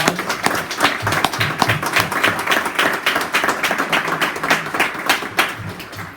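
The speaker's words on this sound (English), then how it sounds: "Let's give them all a round of applause." Warm, steady applause from an audience at the grand opening of an assisted living facility, dense clapping that holds at an even level for several seconds.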